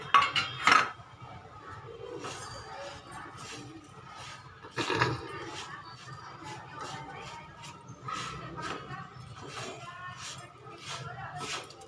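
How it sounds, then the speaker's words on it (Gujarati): Sugar and strawberries are stirred together in a bowl for strawberry shreekhand, with a spoon giving sporadic clinks and scrapes against the dish, a few sharper knocks among them, under a speaking voice. "અને આ શુગર અને સ્ટ્રોબેરી બંને સરસ રીતે મિક્સ કરી લેવાનું છે"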